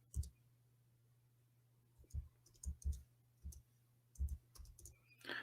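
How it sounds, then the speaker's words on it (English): Keys clack on a computer keyboard while someone types in Arabic, giving sparse irregular clicks in short bursts that are close by and quiet, with a faint steady hum underneath. "No, I'm typing in Arabic."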